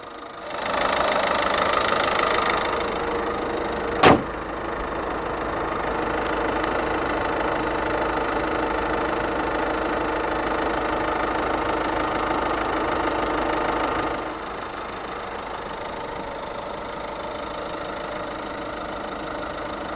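A 2014 Peugeot 308 1.6 e-HDi 115 diesel starts with a brief louder surge and a single sharp click, then settles into a steady, slightly knocking idle. The engine note drops a little softer near the end.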